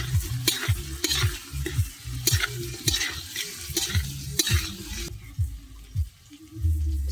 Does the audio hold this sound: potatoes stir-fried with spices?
yes